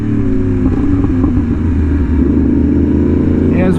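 A Yamaha R1M sport motorcycle with an SC Project exhaust rides at night, giving a loud, steady close engine drone with a constant low rumble throughout and no speech.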